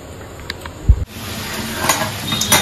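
Dal with coconut cooks in a pan as a spoon stirs it: a soft knock near the start, then a close, continuous sizzle with scraping stirring strokes.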